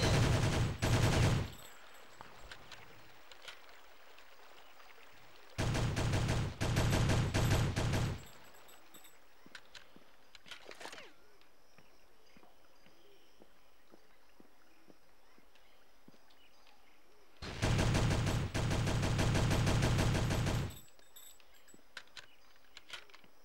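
Gunfire in the shooter game Conspiracy: Weapons of Mass Destruction, coming in three loud sustained bursts of rapid automatic fire separated by long quieter stretches with faint scattered sounds.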